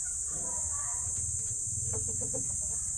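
Brooding hen making soft, low, repeated clucks close by, against a constant high background hiss, with a few faint clucking bursts toward the end.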